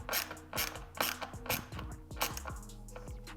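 A small driver tightening T20 screws on BMW G87 M2 paddle shifters, a fast run of close, loud ratcheting clicks repeating steadily with no talking.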